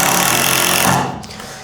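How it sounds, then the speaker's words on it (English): Erbauer power driver sinking 5x90mm screws into timber, a loud continuous buzzing whir for about a second that cuts off abruptly, leaving a fading rattle. "we're going to pop in some 5x90mm screws into this piece of timber"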